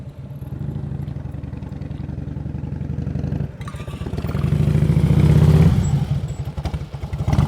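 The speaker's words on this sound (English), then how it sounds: "This motorcycle was moving a little bit." Motorcycle engine during an advanced slow-speed riding practice session, a steady close idle that rises into a louder revving stretch, then eases back to a low chugging rumble.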